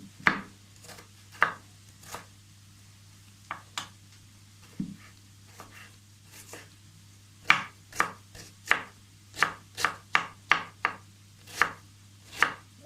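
A knife chops onion finely on a cutting board in sharp, close knocks, sparse and irregular at first, then a quicker steady run of cuts, with no talk.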